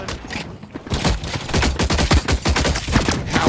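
Rapid bursts of flechette gun fire from The Cycle Frontier emptying a whole magazine, dense overlapping shots in a loud, sustained barrage lasting a few seconds.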